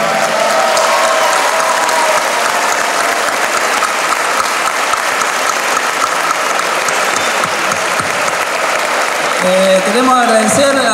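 A festival crowd applauds factory workers with dense, sustained clapping across the whole stretch, loud and steady, with cheers and a few voices rising near the end.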